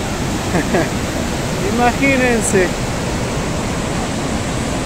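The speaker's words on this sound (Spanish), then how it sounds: "El río está potente, amigos." Fast-flowing river at Huapa Lircay rushing as a steady, loud broadband roar close by, with excited voices talking briefly over it.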